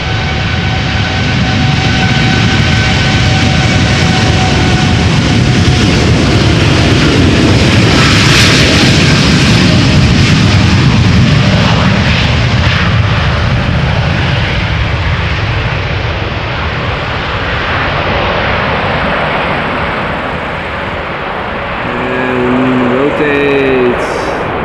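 A seven-year-old American Airlines Boeing 787-8 Dreamliner bound for Philadelphia takes off at Amsterdam Schiphol, a loud sustained engine roar that swells, then slowly fades into the distance.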